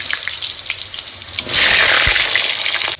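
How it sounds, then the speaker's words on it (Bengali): Thin-sliced potatoes drop into hot mustard oil, and a sharp, loud sizzle bursts up midway and holds steady until the end after a quieter start. "আলুগুলো ভেজে নেবো।"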